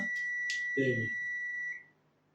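A steady high-pitched electronic beep tone from a dead phone under diagnosis holds for about two seconds, with a short burst of voice-like sound partway through.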